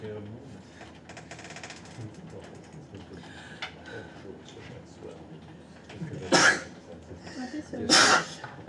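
A sneeze bursts out twice near the end, two sharp close bursts about a second and a half apart after a stretch of quiet room murmur and faint voices.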